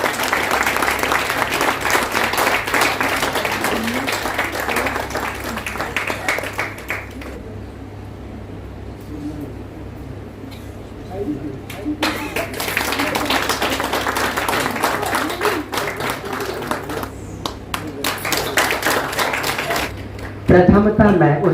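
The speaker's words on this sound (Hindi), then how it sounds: "तालियां रुकनी नहीं चाहिए." Sustained applause from an audience, dense clapping that fades briefly in the middle before swelling again, with some voices mixed in.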